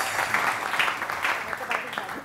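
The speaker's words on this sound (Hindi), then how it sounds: "इनके लिए बहुत सारी तालियां हैं" A studio audience claps in a continuous, crackling burst during a TV morning show, with a presenter talking over it.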